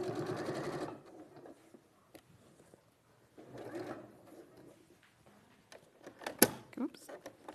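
A sewing machine stitches through fusible foam in short close bursts of rapid mechanical whirring, with pauses and a few sharp clacks between runs, while people talk quietly.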